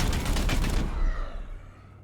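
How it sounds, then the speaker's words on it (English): A single basic shot of gunfire in Warhammer 40,000: Chaos Gate - Daemonhunters sounds as a loud burst of rapid reports for under a second, then a rumbling tail that fades away, with no talk. "Opening fire."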